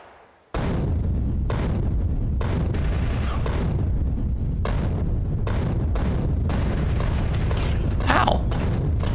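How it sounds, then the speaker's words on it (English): Grenades exploding in Factorio amid dense, continuous gunfire and thudding booms, a loud unbroken barrage of rapid impacts with a short quiet moment before it erupts. "let's throw some nades at them"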